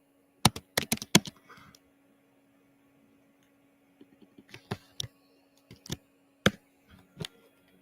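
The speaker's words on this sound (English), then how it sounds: "When I start laughing as I'm typing, y'all already know I'm doing something crazy" Typing on a computer keyboard indoors, sharp clicky keystrokes in two bursts separated by a quiet gap, close and clear with a faint steady hum underneath and no talking.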